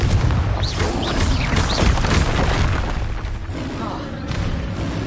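Bombarda and Confringo spell explosions from Hogwarts Legacy, heavy booming blasts rolling one into the next with dense low rumble and bright magical whooshes layered over a loud, continuous combat bed.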